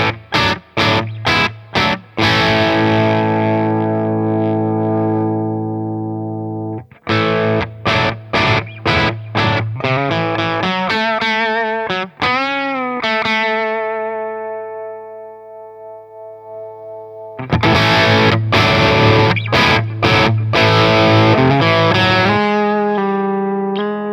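An electric guitar through a King of Tone-style overdrive pedal, its tone knob turned nearly all the way down, plays driven strummed chords and bent notes for a long stretch, loud and close, with no voices.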